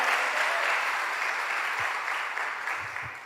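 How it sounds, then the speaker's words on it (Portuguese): Church congregation applauding during a worship service: a thick wash of steady clapping from a large indoor gathering, continuous and even, fading slightly toward the end with a few low thumps underneath. "Vamos aplaudir o Senhor."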